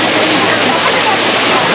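A popular waterfall with a bar beside it on the Ha Giang Loop, heard as a loud, steady rush of falling water that fills the whole clip.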